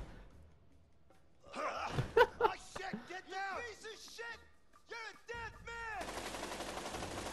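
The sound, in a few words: gunfire in A Way Out video game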